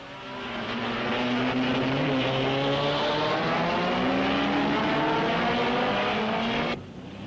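1961 Formula One race cars at Spa-Francorchamps, including Ferraris, roar past in a loud sustained engine drone with rising and falling pitch that holds strong for several seconds, then drops away abruptly.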